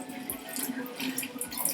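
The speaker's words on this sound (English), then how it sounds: "And now I'm going to wring out as much water as possible." Water splashes and drips into a sink as long 4C natural hair is squeezed and wrung out, a steady close wet trickle with soft squelches and no talk.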